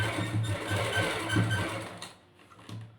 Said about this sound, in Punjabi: ਹੁਣ ਆਪਾਂ ਇਹਦੇ ਲੈਸ ਤੇ ਮਣਮਣੀ ਸਲਾਈ ਲਗਾਵਾਂਗੇ ਦੁਆਲੇ ਸਲਾਈ ਲਗਾ ਲਾਂਗੇ